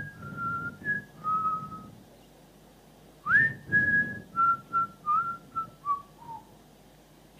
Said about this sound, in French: Elle s'est mise à siffler.